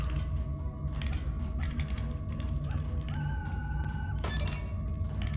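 Bolts being removed in a mechanical side puzzle in Star Wars: Tales from the Galaxy's Edge give off soft clicks, thunks and short metallic whirring tones over a low steady background hum.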